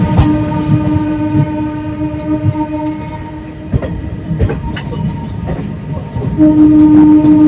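A train rumbles along the tracks close by with rhythmic clacking and metallic squeals, and a sustained horn tone sounds loudly toward the end.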